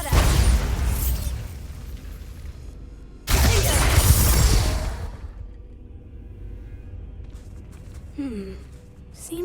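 Bombarda blast spells cast in Hogwarts Legacy, two loud booming bursts each followed by a fading roar, with quieter rumble and small magical chimes afterward.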